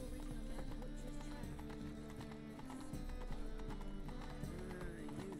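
A horse in the video game The Witcher 3 trots with quick, steady clip-clopping hooves, close and continuous over sustained in-game music.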